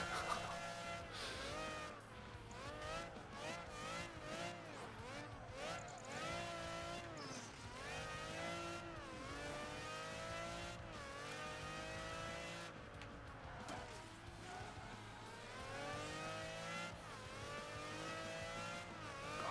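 A race car engine in Project Gotham Racing 3 whines and revs continuously, pitch rising and falling through gear changes and corners, steady and close throughout.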